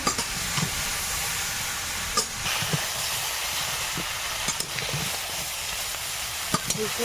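Crab and Malabar spinach sizzle and fry in a large pot, a steady broadband hiss with occasional sharp clicks and stirring knocks throughout.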